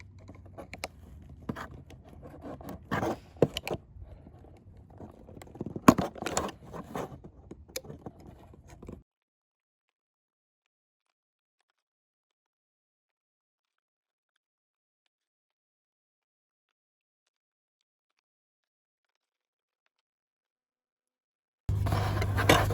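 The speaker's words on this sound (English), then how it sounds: "I'm going to try using an X-Acto knife to see if I can actually cut this out" An X-Acto knife cuts through a plastic part for a FiTCamX dashcam housing made for Lexus and Toyota vehicles, giving close, irregular scraping and snicking strokes for about nine seconds before silence, then a short resumption near the end.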